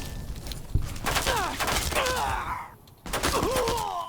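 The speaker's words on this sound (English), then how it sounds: "Who else is shooting at me?" Gunfire in the Fallout: Tale of Two Wastelands game at Boulder City, with several close shots and a burst of rapid fire mixed with sweeping whooshes, a brief lull, then more shooting.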